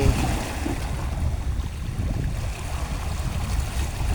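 Water churns and laps at Ban Phe pier, where hired boats run out to Koh Samet, with a steady engine-and-wash rumble that holds close and loud throughout.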